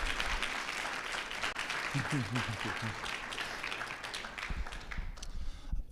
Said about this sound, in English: One more round of applause for Lori Brown.